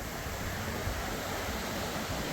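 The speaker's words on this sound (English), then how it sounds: "This is the Whakapapa River." Whakapapa River flowing nearby, a steady full-band rush of water that stays constant and fairly loud throughout, with no voices.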